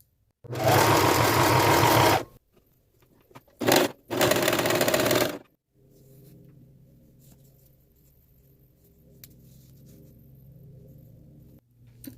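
A sewing machine hems the edges of a flannel scarf in two loud, steady runs with a short burst between, then a faint low hum carries on alone.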